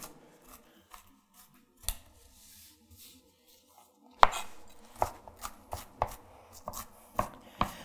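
Chef's knife rocking through food on a cutting board, a few soft scattered taps at first, then a steady run of sharp, close chopping strikes in uneven rhythm.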